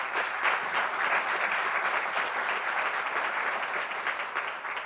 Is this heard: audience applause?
yes